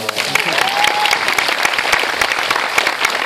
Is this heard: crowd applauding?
yes